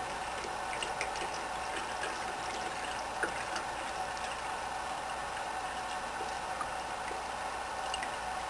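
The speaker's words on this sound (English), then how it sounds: "I'm just going to pour the butter through the strainer" Melted butter pours through a strainer into a container as a continuous soft liquid trickle and gurgle, steady and fairly quiet with no talking.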